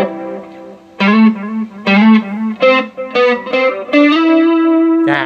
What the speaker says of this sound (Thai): ถ้าเราอยากให้คอรัสนวลขึ้นกว่าเดิมปุ๊บนะใส่ดีเลย์เข้าไป